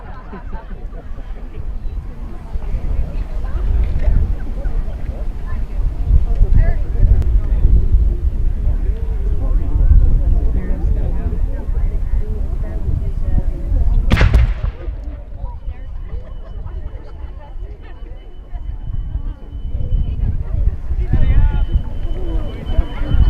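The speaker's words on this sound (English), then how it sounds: "So we're going to begin with the bombardment." Cannon bombardment at a Fort George battle reenactment: one sharp, loud blast booms out midway over a steady rumble of outdoor crowd noise and wind, with murmured voices of spectators in the background.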